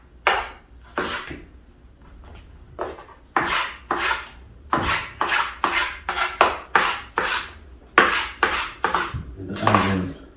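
A knife chops butter chicken ingredients into rough cubes on a board, a run of sharp, close, rhythmic thuds coming quickly in uneven bursts, with no talking.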